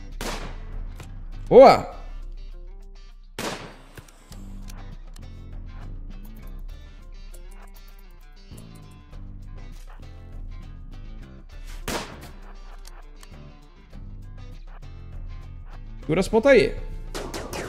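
Sporadic gunshots in the colony strategy game Rimworld, a handful of sharp isolated cracks spaced seconds apart, some in quick doubled bursts, between quiet gaps with someone talking over them.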